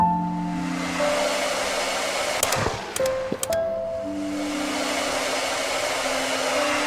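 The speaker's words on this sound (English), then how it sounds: "Wait, do I need the vacuum for here?" Vacuum from the video game Undusted, running as a steady whooshing drone throughout, with a few short electronic tones and blips briefly cutting across it midway and soft background music lines, no talking.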